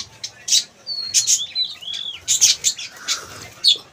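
Budgerigars in a breeding colony give bright, quick chirps and short whistled calls among soft wing flutters, close and busy with no clear talk.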